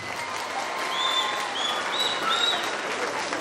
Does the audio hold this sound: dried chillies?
no